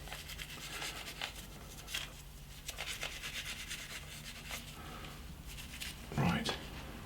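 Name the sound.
rubbing clean a BMW GS brake caliper piston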